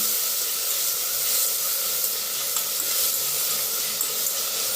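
Vegetables fry in hot oil for a pulao, a dense, even, loud sizzling hiss that holds steady throughout with no voices.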